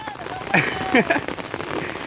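Rain patters steadily on a surface as a soft, even hiss during monsoon fishing, while voices speak briefly over it.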